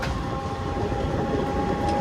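A train rolls out of Pampore railway station on the Srinagar to Banihal line in cold Kashmir weather, giving a steady low rumble with a faint tonal whine, heard briefly and continuously from inside.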